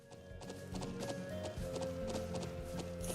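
Horses in the Trails of Cold Steel video game clip-clop in a steady, continuous rhythm over a background music bed, with a brief whinny, fairly close and moderately loud.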